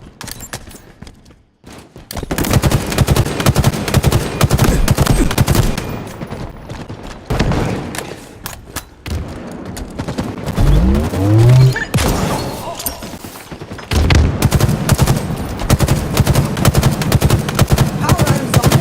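Gunfire in the video game Halo Infinite, loud sustained bursts of automatic weapon fire and shots in rapid succession, with booms and a sweeping whoosh mid-way, briefly pausing near the start.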